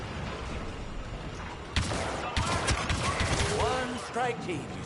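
Blaster fire from a Star Wars Battlefront 2 battle bursts in at close range, with sharp repeated shots under game voices and ambient noise.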